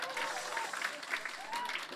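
An audience claps at a campaign office opening, a short burst of applause under and around a speaking voice.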